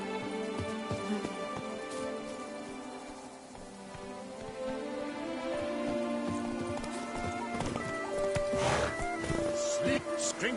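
Hooves of a horse in the video game The Witcher 3 clip-clop steadily beneath game music and ambient sound, with a voice speaking in the scene.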